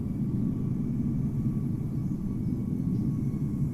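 A Qatar airliner passing by at Amsterdam Schiphol in Microsoft Flight Simulator in cloudy weather, a steady, dense low engine roar with a faint high whine, unbroken for a few seconds.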